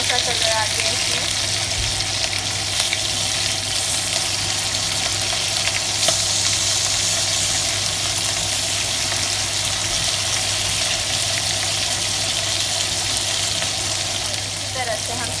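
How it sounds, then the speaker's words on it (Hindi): Mutton chops fry on medium to low heat in a pan with a loud, continuous, dense sizzle that holds steady throughout, broken by an occasional faint clink. "इसी तरह से हम सारी चापे फ्राई कर लेंगे"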